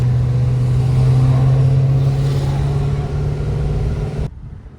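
A Chevy SS drives along with a steady, close mid-pitched engine hum and low rumble that holds evenly, then cuts off abruptly near the end.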